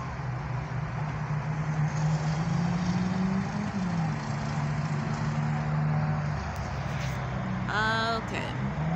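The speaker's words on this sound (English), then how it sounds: "There's lots of traffic. You can see all the cars going past." Steady road traffic rumbles past with a droning engine hum throughout, fairly distant and continuous, with a brief higher-pitched squeal near the end.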